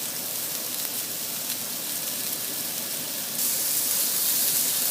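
Lamb chop lollipops searing on a grill give off a steady, even sizzle and hiss that grows slightly louder near the end, with no talking.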